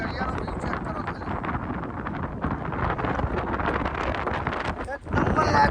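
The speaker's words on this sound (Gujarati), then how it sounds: "અને પવન એટલો બધો મસ્ત આવે" Strong sea wind buffets the microphone on the seashore at Dwarka, a steady, loud broadband roar that fills the whole stretch and dips briefly just before the end.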